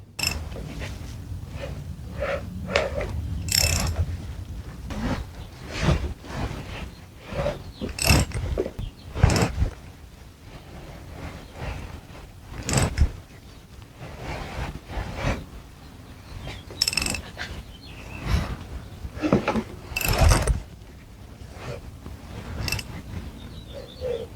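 A Harley-Davidson Sportster Evo engine fitted with new valves is turned over, giving irregular close mechanical clicks, ticks and ratcheting taps with brief pauses between them and no talking.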